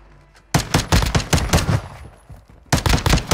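Rapid bursts of automatic gunfire in a first-person shooter game, loud and close, firing in a sustained volley of repeated shots, breaking off briefly and then resuming.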